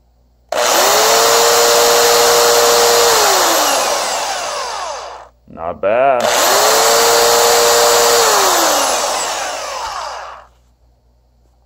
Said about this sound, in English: I got this Black & Decker 7 amp half inch drill.